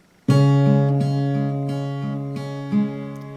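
Plucked guitar strings ring out in a steady, even eighth-note fingerpicking pattern, bass notes alternating with higher strings, played alone and close up.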